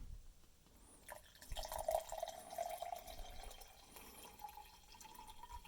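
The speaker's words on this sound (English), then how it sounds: "I did just pour it from a cup to a cup" Water trickles and splashes as it is poured from cup to cup to rehydrate a Russian military ration, with a soft liquid gurgle rising and fading over quiet background.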